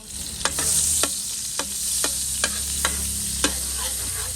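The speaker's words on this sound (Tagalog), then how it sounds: "Ngayon, maglalagay ako ng margarine." Margarine melting into hot oil in a pan while cooking igado, a continuous bright sizzle punctuated by regular sharp scrapes and taps of stirring, close and alone without talk.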